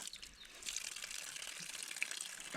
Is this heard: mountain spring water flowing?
yes